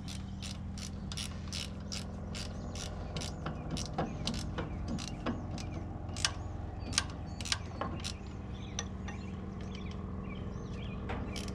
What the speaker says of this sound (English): snug these two front mount bolts up